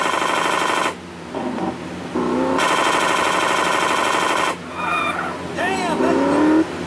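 Vehicle engine droning steadily in Grand Theft Auto San Andreas, with brief drops in the sound, a few tire squeals and rising whines near the end, a voice talking over it.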